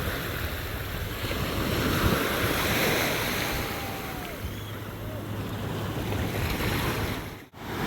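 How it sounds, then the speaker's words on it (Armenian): Sea waves wash and break in a continuous surging roar, with wind buffeting the microphone throughout. "ալիքներ ունի լավ"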